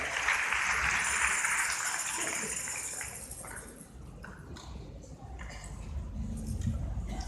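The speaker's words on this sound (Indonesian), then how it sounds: "Tepuk tangan sekali yang meriah dalam ini" A church congregation applauds during a pre-Christmas service and fifth-anniversary celebration at GBI Marina Plaza Manado, a dense, steady wash of clapping that gradually thins and softens toward the end.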